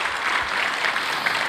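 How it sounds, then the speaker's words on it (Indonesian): Church congregation applauding during a worship service, a steady, dense wash of clapping from many hands that fills the space evenly with no pause. "beri tepuk tangan yang meriah buat Tuhan"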